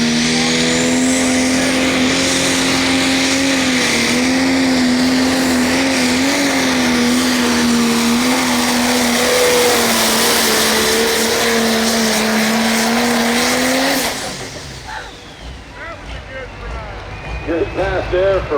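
Pro stock pulling tractor named Glutton for Punishment making a full pass at a tractor pull in Osceola, Iowa, a roaring high-revving engine with a wavering pitch that suddenly cuts off, leaving crowd noise and an announcer talking.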